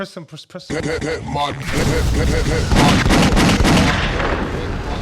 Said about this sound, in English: Press the gunshot or something, man.